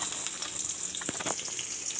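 Onion frying in hot oil for cooking greens, a constant close sizzling hiss with a few sharper crackles and spatters through the middle.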